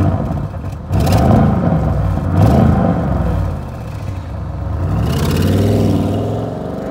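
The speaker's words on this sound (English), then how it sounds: "So let's take a listen to this car's fantastic RS Sports exhausts." An Audi RS6 Avant 600PS with RS sports exhausts revs loudly up close, its deep exhaust rumble rising and falling in several pulls with a throaty whir.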